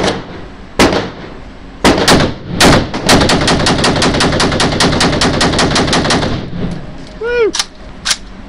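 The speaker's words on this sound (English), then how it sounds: "20 rounds rapid fire from the hip with the green laser" Rapid fire from a Krinkenstein MKII rifle shot from the hip, about twenty loud close rounds in a fast, steady burst after a few separate opening shots, ending with a clatter and a short whistling ring.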